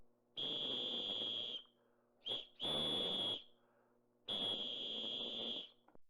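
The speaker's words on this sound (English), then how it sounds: "The figure lifted its hand and brought a rusty whistle to its lips." Three shrill blasts from a rusty whistle, each steady and piercing, the first and last long, the middle one preceded by a short chirp, sounding alone with quiet gaps.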